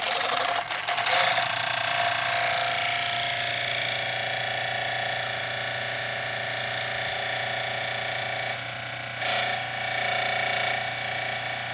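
A rotary unit hooked to an electron pump air circuit runs steadily with a continuous mechanical hum and whir, a steady low drone under a buzzing layer, holding even throughout with brief bumps near the start and end.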